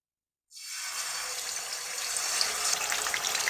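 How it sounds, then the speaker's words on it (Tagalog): Fish starts frying in oil in a large pan, a sudden steady sizzle that stays loud and even after a brief silence, with no talking. "Habang piniprito natin yung ating isda"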